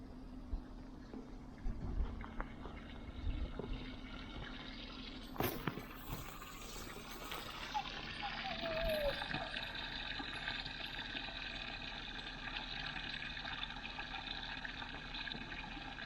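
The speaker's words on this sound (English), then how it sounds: "We're about to pump the water out of that giant hole using our van's power." Water gushes and splashes as a pump running off a van's power draws it out of a large hole in a swamp. The pumping is steady and fairly faint, after a few knocks and clatters at the start.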